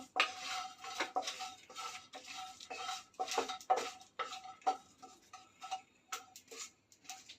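A spoon stirs whole spices with shahi jeera frying in a pan for biryani masala, making steady, rhythmic scraping taps against the metal, close and fairly quiet, with no talking.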